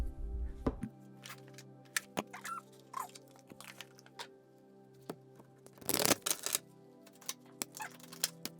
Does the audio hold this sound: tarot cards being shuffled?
yes